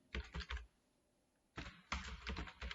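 Keyboard typing of an SQL delete statement, quick bursts of keystrokes in two clusters separated by a short pause, close and moderately loud.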